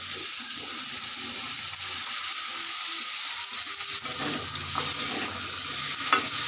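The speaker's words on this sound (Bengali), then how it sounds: "আর দেখো মাছগুলো ভেজে নিচ্ছি ডাটাগুলো তুলে দিচ্ছি" Fish pieces and drumsticks sizzle in a pan of oil, a continuous close frying hiss with occasional scraping stirs and no voices.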